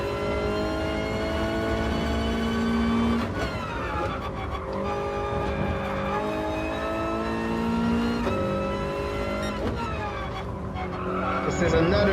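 Race car engine in Gran Turismo, steady harmonic drone with shifting pitch through corners and brief gear-change dips, loud and continuous, with light tire scrub.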